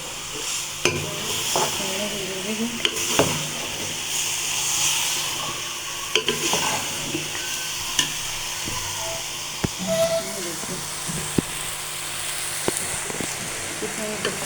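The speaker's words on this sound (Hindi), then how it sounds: "इसके अंदर सब्ज़ी डाल दी। और इसको करेंगे इसी करके मिक्स।" Chopped bottle gourd and ridge gourd sizzle steadily in a pot as they are stirred, with scattered clinks of the spoon against the metal over a continuous frying hiss.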